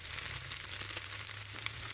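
Noodles frying with noodle masala in a pan hiss and sizzle steadily, a continuous close crackle with occasional small pops and a faint low hum beneath, no voices.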